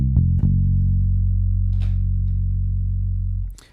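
Bass guitar routed through an SSL plugin, a deep sustained note with a couple of plucked attacks at the start, ringing steadily for over three seconds before being cut off with a brief scrape.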